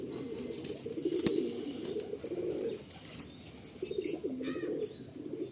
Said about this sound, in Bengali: এটা দেখুন কত সুন্দর একটা পায়রা, দেখুন দারুণ পায়রা